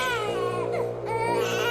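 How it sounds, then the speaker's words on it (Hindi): An infant wails from a TV continuously in a high, strained cry, loud and close, over a low electrical hum. "वो बच्चे के रोने की आवाज टीवी से आ रही थी"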